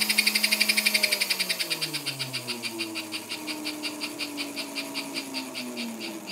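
A rewound American Flyer electric toy train motor runs on a bench at low voltage, giving a rapid rhythmic pulsing whir with a shifting hum that drops in pitch and then settles steady, no talking.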